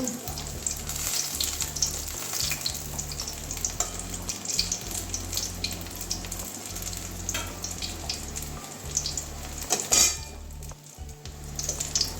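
Stuffed spiny gourd (kakrol) frying in hot oil, with a continuous close crackling sizzle, occasional utensil clinks and scrapes, and a louder stir-and-splatter burst near the end, no voices.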